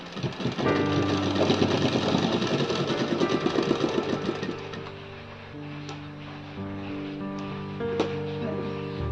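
A sewing machine stitches a hook strip onto the back of a blouse, running in a fast, rhythmic, close mechanical chatter for about five seconds, then giving way to quieter humming and light clicks.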